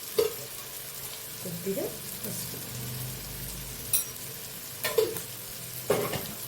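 Coriander powder and turmeric are stirred into a pan, heard as a soft, low sizzle with occasional spoon clinks and scraping against the pan's metal.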